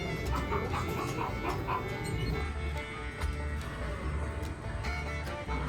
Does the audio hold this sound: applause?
no